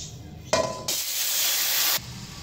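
Liquid poured into hot oil bursts into a loud, sharp sizzle that hisses steadily for about a second before cutting off, close up.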